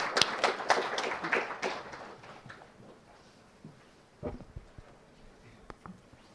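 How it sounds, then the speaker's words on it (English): Audience applause at an AI conference session: a burst of scattered hand claps in the first two seconds that thins out into a few isolated taps and claps, with no speech. "let's give a round of applause"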